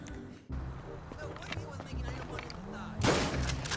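Gunfire in the video game GTA V, a loud burst near the end over continuous game noise and a voice talking throughout.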